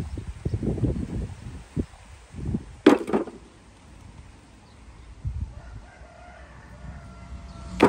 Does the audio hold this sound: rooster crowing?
yes